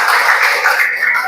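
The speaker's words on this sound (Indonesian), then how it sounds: "tepuk tangan untuk Ardi, Rifki, Gabriel" Applause from a class of students for Ardi, Rifki and Gabriel, a short, close, dense patter of clapping.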